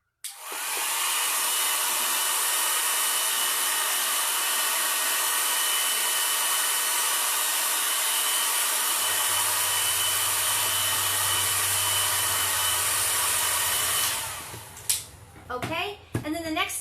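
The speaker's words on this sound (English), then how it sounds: "now you want to go back with your hair dryer and dry it just in case" A hair dryer blows steady and loud at close range over a freshly painted watercolor flower for about fourteen seconds, then cuts off, followed by brief handling noises.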